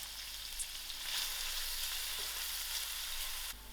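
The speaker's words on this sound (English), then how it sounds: "I'm going to add in my onions to the oil and allow this to fry till it's soft." Onions fry in hot oil in a pan, a steady bright sizzle close up that carries on without pause, with no voices.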